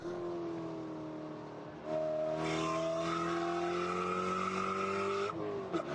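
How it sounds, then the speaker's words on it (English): Spec Corvette race cars at Chuckwalla Valley Raceway pull away from a standing start, tires squealing over loud, rising engine roar that swells after a brief lull and holds steady, with no talk. "A little bit of tire squealing."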